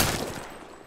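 Rapid gunfire from a Thai-language shooter video game, a dense burst that starts loud and tapers slightly across a short stretch, with no talk over it.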